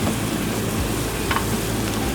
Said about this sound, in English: Little sizzle going on there.